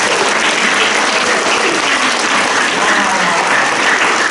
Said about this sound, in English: Can you guys give Liana a nice big round of applause?